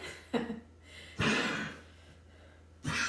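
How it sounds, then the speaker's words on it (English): Three harsh, breathy coughs from a dog with allergies, spaced about a second apart, each a short hacking burst over a faint background hum. "that's my dog coughing"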